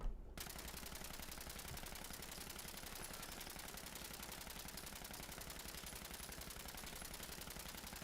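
The Elder's Mark submachine gun in Fallout 76 fires one unbroken, rapid automatic burst lasting several seconds, close and dense at a constant rate.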